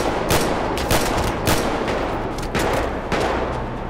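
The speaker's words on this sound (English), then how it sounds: "they're shooting me." Rapid bursts of gunfire in the GTA 5 video game, loud and continuous, with sharp repeated shots and volleys overlapping across the whole stretch, no talking.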